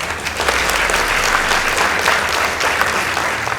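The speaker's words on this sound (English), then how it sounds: "Let's give them a round of applause." Loud, dense applause erupts after a school debate between Mukaa Girls High School and Muvuti School, a continuous roar of many students clapping close by throughout.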